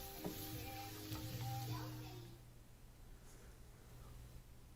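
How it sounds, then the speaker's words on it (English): Bell pepper pieces frying in butter in a pan, a soft steady sizzle that is quiet throughout, with a few clinks and stirring sounds early on. "If you basically fry anything in butter, it's out of this world, right?"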